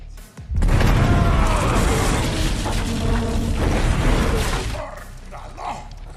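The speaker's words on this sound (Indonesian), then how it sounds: "Dan tak lama kemudian aksi peledakan pun dilakukan." Explosives detonated on the floor beneath a safe in a heist film, a sudden loud blast that becomes a long roaring rumble with debris and clatter before fading.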